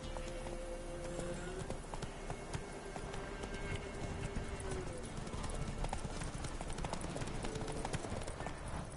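Horse hooves pound in a fast galloping clatter in The Witcher video game, with shouting voices and other game sounds layered on top throughout.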